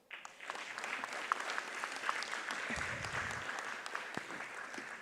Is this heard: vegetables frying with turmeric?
no